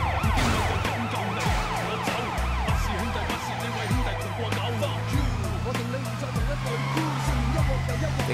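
Police sirens wail continuously in a Sleeping Dogs chase, rising and falling in overlapping sweeps close behind the player's small car, with engine drone and traffic noise throughout.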